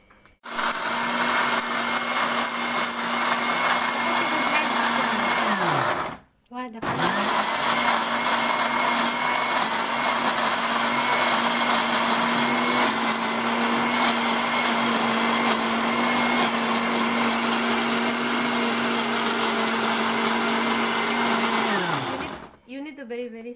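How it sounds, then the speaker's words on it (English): A kitchen blender purees lime leaves, onion, white pepper and garlic, its motor whining steadily and loudly, stopping briefly for a moment and then running again for a long stretch before switching off. "ibiblend niya my lime leaves, my onion, got white pepper, and garlic"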